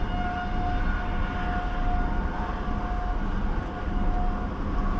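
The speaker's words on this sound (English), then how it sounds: "Can you hear that siren?" A storm warning siren near Dallas, Texas, wails steadily on one tone throughout, distant and continuous over a broad rumbling background.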